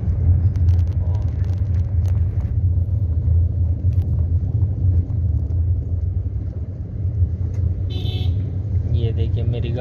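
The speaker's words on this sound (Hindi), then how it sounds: "ये देखिए मेरी गाड़ी स्मूथली एकदम मक्खन की तरह चलती हुई" Car driving along a road with a steady low engine and road rumble, loud and close, occasional brief bumps and a faint horn toot near the end.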